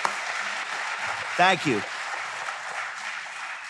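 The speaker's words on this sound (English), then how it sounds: "Give yourselves a round of applause." Audience applause runs as a steady wash beneath the whole stretch, with someone briefly speaking over it.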